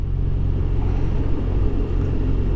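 A BMW R1200RT motorcycle engine rumbles steadily up close with heavy wind noise as the bike slows to 30 mph, with front braking and a gear change to match speed.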